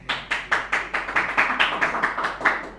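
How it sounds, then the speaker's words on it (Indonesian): A classroom audience claps after a presentation, producing a steady, even rhythm of sharp hand claps, roughly four or five per second, fairly close and with no talk over it. "Aplaus dulu dong."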